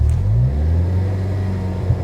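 A Ford Focus ST3 engine idles down after a rev as its map changes, a steady close low rumble with a falling tone that settles evenly, with no voices.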